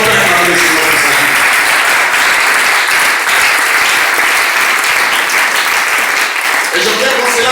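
A church congregation bursts into loud, sustained applause and cheering during a praise moment at a pastors' conference, steady dense clapping for several seconds with voices mixed in.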